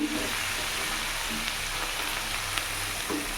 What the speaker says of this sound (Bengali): পেঁয়াজটা ভেজে নিলাম, এখানে একটা শুকনো লঙ্কা ফোড়ন দিলাম